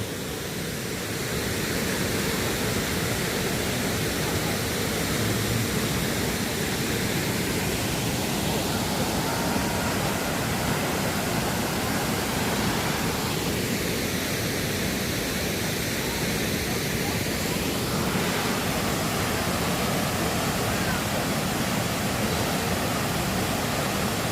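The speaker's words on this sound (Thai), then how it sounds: "เป็นน้ำตก เหวนรกครับ" The tall Haew Narok waterfall pours over a steep cliff, giving a steady, dense roar of falling water that runs unbroken and fairly loud from start to finish.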